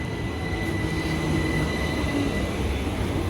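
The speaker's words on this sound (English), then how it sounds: "I see it towing down the distance." Southern train passing through Haywards Heath station, a steady loud rumble and rolling roar with a faint high whine, close and continuous for the whole stretch.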